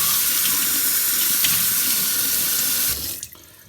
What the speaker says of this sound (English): Rinse it from the top down to get all the stuff out.